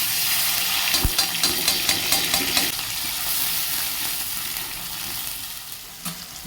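Ginger paste, chili paste, chopped tomatoes and bay leaves sizzle in soybean oil, a steady close frying hiss with rhythmic stirring scrapes during the first half, then an even sizzle that slowly softens.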